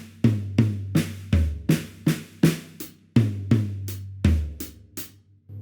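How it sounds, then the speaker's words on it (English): A drum kit plays a 16th-note paradiddle fill that links two patterns, with rapid alternating strokes moving across toms and snare, close and loud with cymbal wash and no talk. "we have another 16th note drum fill"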